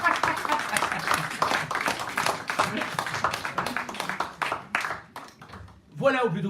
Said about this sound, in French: Ils sont pour eux, ces applaudissements.